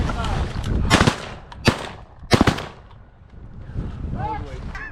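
Shotguns fire during a goose hunt: three or four sharp, loud blasts in quick succession, with wind noise and hunters shouting around them.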